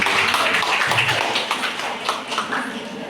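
A small audience applauds during a microteaching evaluation session, a dense patter of clapping hands lasting a few seconds, with some voices mixed in.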